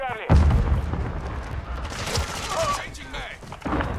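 Gunfire in the multiplayer shooter Call of Duty: Modern Warfare 2, with a loud burst of shots and booming impacts early on, then scattered shots and battle noise under players talking throughout.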